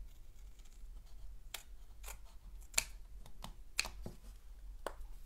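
Scissors trimming a folded paper card for a Stampin' Up! swing fold project, a few sharp isolated snips spaced irregularly, close and fairly quiet against a low steady room hum.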